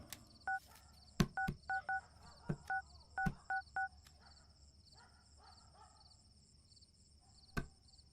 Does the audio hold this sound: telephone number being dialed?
yes